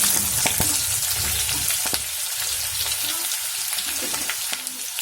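Garlic sizzling hard in hot oil in a pan with green chillies, cooking for Malabar chicken curry: a loud, steady crackle with light stirring clicks throughout.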